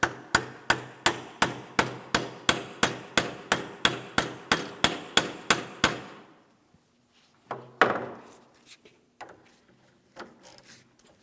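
A hammer tapping an idler arm stud into place on a 2007-2014 GMC Sierra 2500 HD, about sixteen quick, evenly spaced metallic blows that stop suddenly, followed by a few scattered clunks and handling noises.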